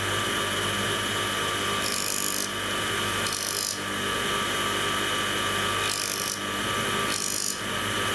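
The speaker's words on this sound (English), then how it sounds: "I'll turn it on, make some noise and make some sparks with the drill." A steady mechanical whir with a constant hum from a drill sharpening machine, broken by several short bursts of harsh, hissing grinding as a metal drill bit is pressed against a wheel, making sparks.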